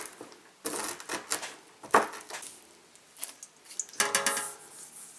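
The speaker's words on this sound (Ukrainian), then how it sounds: "Трохи їх подрібню" Irregular knife chops on a cutting board as walnuts are cut up, uneven taps and cracks, close by with pauses between.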